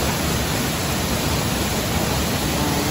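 Steady, dense roar of Mandayao waterfall in La Castellana, Negros Occidental, a continuous broadband rush of falling water, close and loud, with no talk over it.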